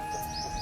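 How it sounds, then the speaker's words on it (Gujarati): Small birds chirp softly around a village Hanuman temple in Gujarat, a few brief high tweets over a quiet outdoor background. "અને સાથે ઝીણો પંખીઓનો કલરવ"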